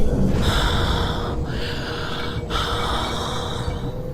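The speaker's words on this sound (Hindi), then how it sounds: "तभी उसे भयानक सांसों की आवाज आने लगी।" Heavy, rasping breaths, loud and close, drawn in three long pulls with brief pauses between, over a low rumbling drone.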